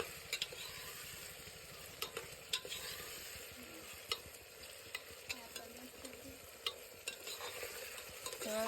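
Green chillies stirred into tomatoes in a pan, with a steady low sizzle and repeated sharp scrapes and clinks of a spoon against the metal, fairly close and with no voices.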